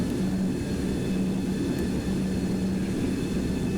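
Boeing 727-100 jet engines idling while taxiing in X-Plane 12, a steady continuous drone with a low hum and faint high whine, unchanging throughout.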